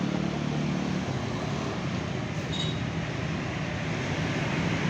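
A Jember Patas express bus rolls past at the Purabaya Bungurasih terminal entrance, its engine and road noise forming a steady broadband rumble. The sound is fairly close and continuous, with no voices.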